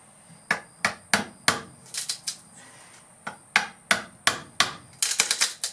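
An old screwdriver is tapped to pry up carpet tacking strips inside a 1974 Silver Streak trailer under renovation. About fifteen sharp, close metallic knocks come in uneven bursts, with a short pause midway and a faster cluster at the end.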